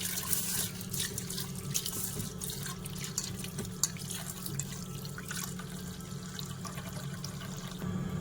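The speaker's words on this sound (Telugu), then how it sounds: "ఇలా 2 times వాష్ చేసుకొని నీళ్ళు పట్టుకోవాలి." Water runs and trickles steadily, with light splashing and dripping close by, as toor dal is washed under a tap. No voices.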